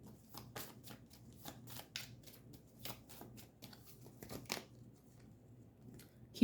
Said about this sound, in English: So I'm going to pull some Romance Angel cards for Kim and Pete.